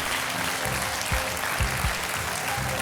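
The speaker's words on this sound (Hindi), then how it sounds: "तालियां बॉबिन कुमार जी के लिए जो कि 10 लाख रुपए जीते हैं।" A studio audience on a Hindi television game show applauds in a continuous, dense burst of clapping with low rhythmic thumps underneath, steady and close for a few seconds.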